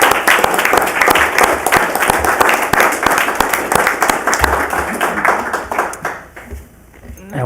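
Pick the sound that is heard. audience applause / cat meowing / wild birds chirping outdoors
audience applause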